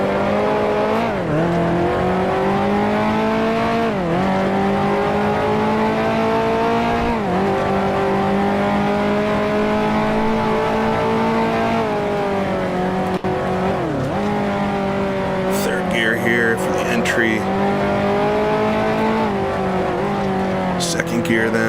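A 1955 Formula One race car engine in the racing simulator Grand Prix Legends roars continuously at high revs, pitch dipping and climbing through gear changes, with brief tire squeal near the end, loud and close throughout.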